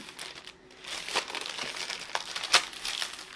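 A plastic cover sheet peeled off a diamond painting canvas, giving close crinkling and crackling with a sharper tearing snap near the end, no voices.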